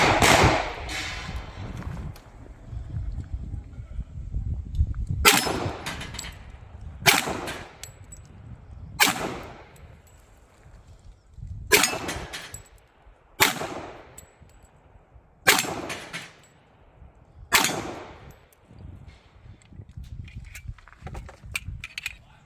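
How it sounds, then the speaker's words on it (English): Single shots from a 1911 pistol built on a PSA frame and fed from Colt magazines, eight or nine sharp reports spaced a couple of seconds apart at an outdoor range, with faint ringing steel between. "I'm assuming that was another low shot."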